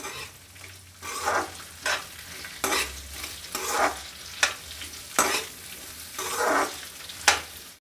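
Sliced onions sauté in a hot pan with a steady sizzle, broken by repeated scraping strokes of a spatula stirring them at a regular rhythm, close and clear with no talking.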